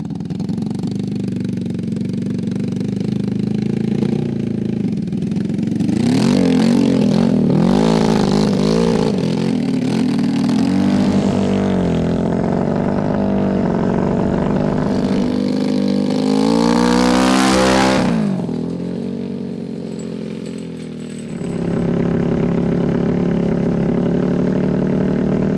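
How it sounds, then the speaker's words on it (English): A lawn mower built around a Suzuki GS450 motorcycle engine runs steadily while cutting grass, with its rumble rising and revving around the middle and near the end, close and loud, with no talking. "Mowing the grass."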